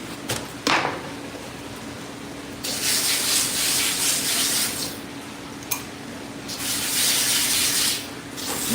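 Repeated scraping and slicing strokes of an 8-inch, slightly dull knife trimming fish, coming in bursts of rasping noise separated by short pauses, with a few sharp taps and a faint steady hum behind.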